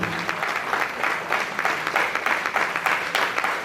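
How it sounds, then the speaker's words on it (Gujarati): An audience at a gathering of blind people applauds, dense overlapping claps at a steady, lively pace, fairly close and continuous throughout. "એમને તાળીઓના ગણગડાટથી વધાવ્યા છે"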